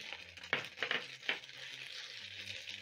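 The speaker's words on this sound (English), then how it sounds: "Saute for around 30 seconds until the raw smell of garlic and ginger is gone." Onions, garlic and ginger sauteing in a pan give a steady close sizzle, broken by a few sharp stirring scrapes early on.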